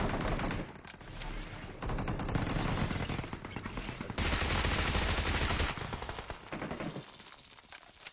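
Sustained automatic gunfire in the PUBG Mobile battle royale game, loud and dense across the whole stretch with a few short breaks and shifting intensity, continuous shots rattling without pause.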